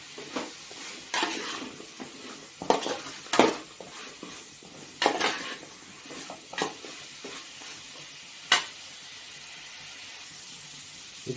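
Brinjal and drumstick pieces sautéing in oil for sambar, a low hiss under bursts of stirring and utensil clatter against the pan, loud early on and then fading to a quiet simmer with one last scrape.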